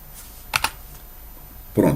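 A few light clicks on a computer keyboard, then a firmer, louder press of the Enter key near the end, close and crisp against a quiet room with no speech.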